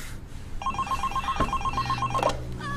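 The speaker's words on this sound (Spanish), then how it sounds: "Suena el teléfono," A telephone bell rings in a quick repeated electronic trill, one burst of ringing lasting about two seconds, fairly close and clear with no talking over it.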